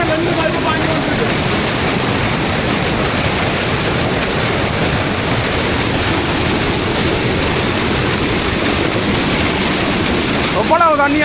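Water gushes steadily from two pipes into an outdoor bathing pool in a Kilinochchi village, a loud, constant broadband rush filling the whole stretch, with a brief voice near the end.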